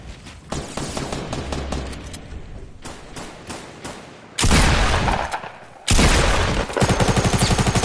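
Pistol gunfire in the Fortnite video game: loud, close bursts of rapid shots in several clusters, with a dense rattling volley near the end and brief gaps between.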